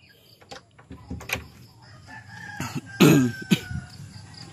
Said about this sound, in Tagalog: So yan po yung ano natin, mga native chicken.